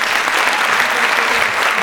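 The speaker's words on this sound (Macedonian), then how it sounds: "Еден огромен аплауз нему." An audience at an international nursing week event gives a doctor dense, sustained applause, loud and close with many hands clapping continuously.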